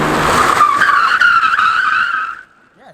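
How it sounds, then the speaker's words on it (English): A BMW E36 drift car breaks into a loud, sustained tire skid as a hydraulic handbrake initiates the slide, the screech holding steady for over two seconds before cutting off abruptly, with engine noise underneath. "Definitely gets the drift started."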